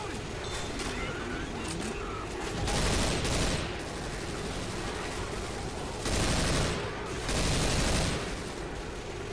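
Heavy gunfire in Left 4 Dead 2, loud bursts of automatic shooting in repeated volleys, with people talking over the shooting.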